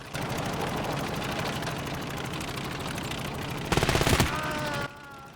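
Sustained automatic gunfire from a World War II battle in Call to Arms: Gates of Hell, a dense rapid rattle running steadily throughout, rising to a louder, harsher burst near the end before cutting to a quieter tail.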